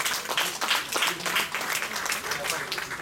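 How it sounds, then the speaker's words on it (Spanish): A crowd at a birthday party claps steadily for a few seconds, with a dense, fairly loud patter of hands and some voices mixed in. "Un aplauso a Dios y a Augusto."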